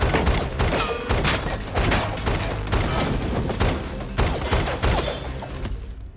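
Rapid, dense movie gunfire rattles in a loud continuous barrage, shots overlapping with crashes and impacts before cutting off abruptly.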